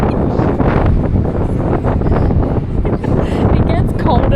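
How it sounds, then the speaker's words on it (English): Strong wind gusts buffet the microphone beside an outdoor pool, a loud continuous rumble with voices talking through it. "It's so windy."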